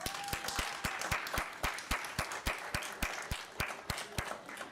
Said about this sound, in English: can we give a huge round of applause for our park students for their STEAM presentations?